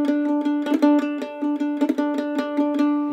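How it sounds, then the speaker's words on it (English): Mandolin plays a neighbor tone triplet figure in an Irish jig style, with bright plucked notes in a quick repeating rhythm. It is close and clear, with no voice over it. "the first variation that we'll look at is what you might call a neighbor tone triplet"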